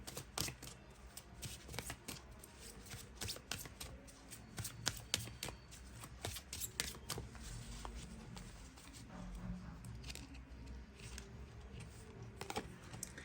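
A tarot card deck being shuffled by hand, producing a rapid run of soft riffling flicks and taps that carries on steadily, quiet and close, with no talking.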